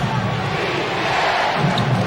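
A packed basketball arena crowd at a 1993 Celtics at Hornets NBA playoff game chants defense, a loud, dense, continuous roar with rhythmic surges.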